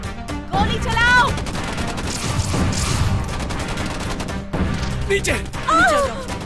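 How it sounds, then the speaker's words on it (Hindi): Gunfire in a dramatic scene, dense bursts of shots and crashes layered with loud shouting voices and music throughout, sustained and chaotic. "चलो जल्दी गोली चलाओ।"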